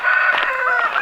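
A rooster crows loudly and close by near chicken coops at a forest trailside, one sustained cock-a-doodle-doo with a wavering pitch and no talk over it.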